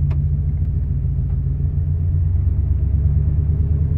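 A pickup truck with four-wheel drive just switched off creeps slowly forward after a struggle, giving a steady low engine rumble and drone that holds level throughout, close by with no talking.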